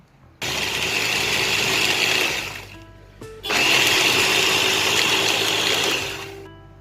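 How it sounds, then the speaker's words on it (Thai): Electric blender grinding roasted, crisp broken cashew nuts to a fine crumb for a banoffee base, two loud whirring bursts of about two and three seconds separated by a brief pause, close and without talk. "ใส่ลงไปค่ะ แล้วก็ปั่นให้ละเอียด"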